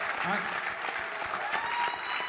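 Audience applause at a press conference for signing a pay raise bill, steady broadband clapping filling the room for a couple of seconds with voices mixed in.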